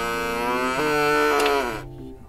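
A cow gives a single long, loud moo close up, in a low droning bellow that lasts about two seconds before it trails off into quiet.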